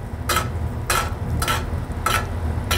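Flounder frying in butter in a pan, with the butter browning, gives steady bursts of sizzling spatter about every half second over a low, constant background rumble, fairly close, with no talking.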